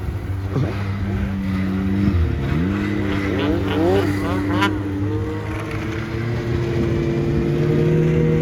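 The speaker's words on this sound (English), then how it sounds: "There's like 20 of these snowmobiles at the gas station further up the highway" A group of about twenty snowmobiles pulls away from a highway gas station near Lake Winnipeg in January, their engines droning loudly and rising in overlapping revs as they drive off.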